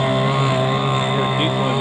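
A diesel boat engine idles with a steady, continuous low rumble and droning tonal hum, loud and close throughout with no breaks.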